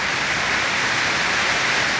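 Steady rain falling outdoors during a power cut, a dense even hiss that holds unbroken and moderately loud throughout, with no voices.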